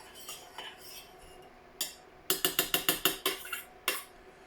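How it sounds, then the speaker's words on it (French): A spoon stirring vanilla into hot syrup in a pot: a few soft scrapes, then a quick run of sharp metallic clinks against the pot's side, one more knock at the end. "Je mélange un petit coup."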